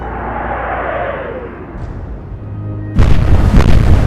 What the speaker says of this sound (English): Let's see where those shells land.